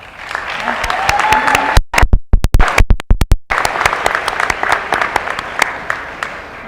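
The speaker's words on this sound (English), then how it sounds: "How about we give some applause to Mom and Dad?" A graduation ceremony audience applauds the parents, with thick crowd clapping that breaks into a few scattered, sharp claps midway and then swells back into full applause.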